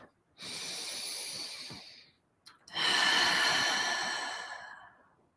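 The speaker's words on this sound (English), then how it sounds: "Take a few breaths in this knowledge." Two slow, deep breaths during a guided meditation, a long airy inhale then a fuller exhale after a short pause, soft and close with no talking.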